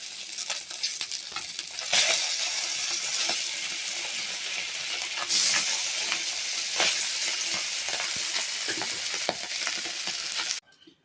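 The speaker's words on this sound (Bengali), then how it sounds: "এক এক করে আমি মাছগুলোকে ভেজে ফেলছি।" Pabda fish frying one piece at a time in hot oil in a pan, a steady loud sizzle with occasional sharper crackles and stirring scrapes, continuous until it cuts off abruptly at the end.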